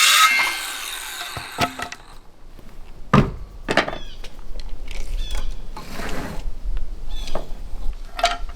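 Saw cutting old warped wooden boards into smaller pieces for stair risers, heard as intermittent sharp strokes and knocks with quiet gaps between them, fairly close.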